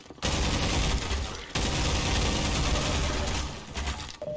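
Sustained bursts of rapid machine-gun fire in a video game, loud and close, with two brief breaks between long volleys and no voices.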